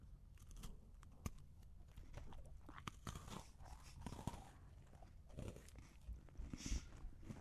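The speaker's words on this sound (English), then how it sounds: "Sorry, I can't hear you over a crunch." Someone bites into a butter cookie and chews it, giving crisp crunches and softer crumbly chewing close to the mic, with a few sharper bites scattered through the quiet stretch.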